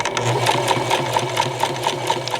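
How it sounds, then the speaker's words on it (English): A sewing machine free-arm stitches a narrow fabric skirt with a steady, fast, even mechanical whir and rhythmic needle ticks, close and continuous with no talking. "I'm free arm sewing right now because this little pretend skirt I made is way too narrow."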